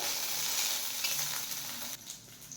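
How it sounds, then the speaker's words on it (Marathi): Brinjal pieces fry in oil with a faint, even sizzle and crackle heard close up and alone, easing slightly toward the end. "आपली वांगी छान अशी तेलामध्ये परततायत"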